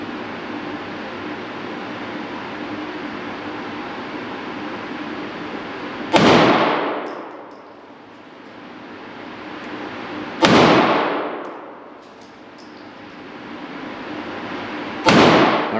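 A PSA Dagger pistol firing hollow point rounds at a range: three loud, sharp shots spaced a few seconds apart, each followed by a decaying echo over steady background hiss.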